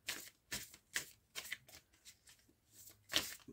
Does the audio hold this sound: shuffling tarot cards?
yes